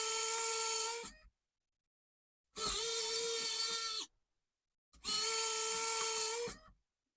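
A motorized mechanism on an Airwolf model deploys the nacelle and guns, giving three close, even bursts of high-pitched servo whine of one to one and a half seconds each, separated by silence.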